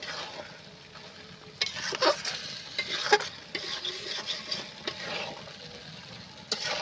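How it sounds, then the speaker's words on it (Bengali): Boiled peas being stirred in a pan while cooking ghugni, a spiced pea dish, giving soft scraping and rubbing strokes over a faint sizzle, with several louder stirring bursts in the middle, no voices. "এবার আমি মিনিট দুই এইভাবে নেড়ে চেড়ে নিয়ে"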